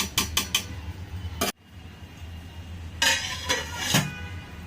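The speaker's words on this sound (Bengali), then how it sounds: "ঢাকনা দিয়ে দিলাম" A metal lid clanks onto a cooking pot in a home kitchen, several sharp clinks at the start, a brief silence, then more rattling metallic knocks as it settles.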